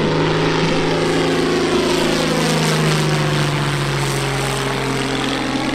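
A radio-controlled model airplane with a propeller engine flies at a model show in Holešov, its steady loud buzzing drone filling the whole stretch with a sustained tone that shifts slightly in pitch as it passes.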